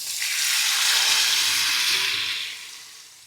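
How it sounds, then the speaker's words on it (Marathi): Dal frying in a hot tempering for Maharashtrian spinach gargatta gives a steady broad sizzle that swells quickly, holds for a couple of seconds, then tapers off, close and fairly loud with no talk. "आता थोडं फ्राय करून घेऊया आपण"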